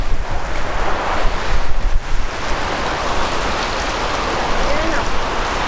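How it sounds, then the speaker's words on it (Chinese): Heavy, violent rain pounds an old house in a windstorm, a dense, steady roar of downpour and gusting wind filling the whole clip, loud and close throughout. "那是狂风暴雨，你知道吗？"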